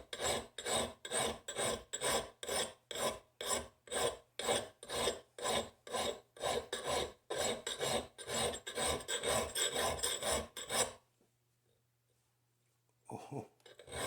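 An old axe edge being sharpened with a file, giving a steady run of rhythmic rasping strokes, loud and close, for about eleven seconds before a pause and one more stroke.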